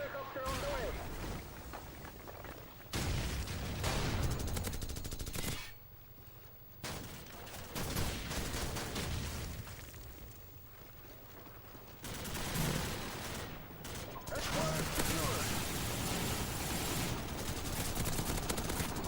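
Rapid gunfire and explosions from Call of Duty 4 / Modern Warfare 2 multiplayer on PS3, dense bursts filling most of the clip with a few brief lulls, loud and continuous under game ambience.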